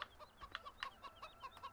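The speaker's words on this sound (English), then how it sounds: "here's a chicken that it starts off with" A chicken in Farming Simulator 2015 gives a quick run of short, rhythmic clucks, evenly spaced and fairly close, with no talk over them.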